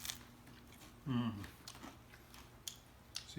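A bite and chewing into crispy homemade focaccia, a crunchy crackle followed by softer chewing sounds, close to the microphone, with no talking over it.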